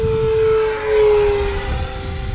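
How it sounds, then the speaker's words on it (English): RC F-16 or F-15 model jet passing overhead, a steady loud turbine whine with a high tone that dips slightly as it goes by, with no talk. "The beautiful thing about these jets is that they sound awesome."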